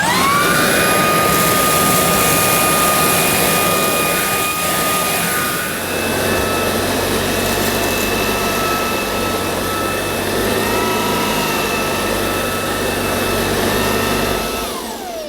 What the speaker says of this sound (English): if a Shark cordless can outperform this mains powered Hoover, there's not much hope for the Hoover